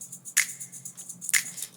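Two crisp finger snaps stacked with a tambourine shake land about a second apart in a building section of a DJ remix production, bright and up front against a low synth bed, with no voices.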